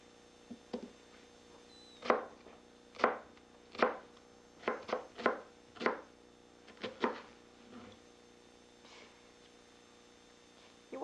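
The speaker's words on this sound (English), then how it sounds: "We have 2 stalks of celery, 2 carrots, 4 cloves of garlic, and an onion. Thing to do is just start chopping." A knife chops celery, carrots, garlic and onion on a cutting board in a home kitchen: about a dozen sharp, separate thuds at an uneven pace, close and clear against a quiet room.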